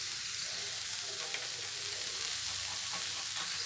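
Diced carrot and potato fry in a pan for samosa filling, giving a steady, soft sizzle with faint scattered crackles throughout and no voices.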